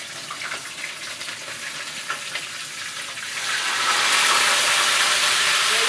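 Onion and fish fry in bleached oil for okra soup, a steady hiss and sizzle that swells louder and broader midway and stays close and continuous, with no talking.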